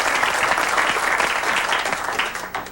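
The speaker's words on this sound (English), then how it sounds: "I think she deserves a round of applause for getting them out of her neighborhood" An audience at a 1989 community forum on fighting crack cocaine breaks into sustained applause, a dense, steady wash of many hands clapping that stays loud throughout and eases slightly at the end.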